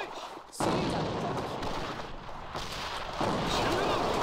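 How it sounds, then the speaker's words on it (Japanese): A thrown grenade detonates in the online shooter AVA with a sudden heavy blast, followed by a rumbling roar and a second swell of noise a few seconds later. "手榴弾投擲。"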